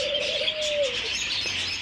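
A dove at a zoo gives one close, clear coo that slides and fades, set against a busy background of small chirps from other birds.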